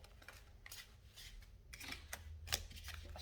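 Playing cards riffled and shuffled in quick bursts of crisp fluttering snaps, close by, with short pauses between shuffles.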